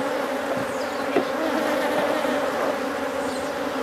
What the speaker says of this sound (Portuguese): Vocês estão percebendo que é uma colmeia forte, uma colmeia adulta.